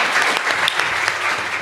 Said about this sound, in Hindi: उनके लिए हम ज़ोरदार तालीफ जाते हैं